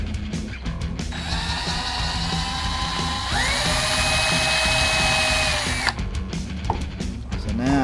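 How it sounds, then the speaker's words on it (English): Power drill cleaning out a small hole in a homemade fishing sinker slide, a close, loud motor whine with a steady pitch that rises for a few seconds of cutting before spinning down. "So I take my drill and I clean that hole out."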